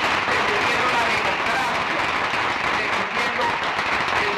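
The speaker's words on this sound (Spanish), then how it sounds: "a quien le pido un fuerte aplauso" Applause for the Public Prosecutor's Office fills a Venezuelan official address: a dense, steady burst of many hands clapping from a crowd, loud and continuous throughout.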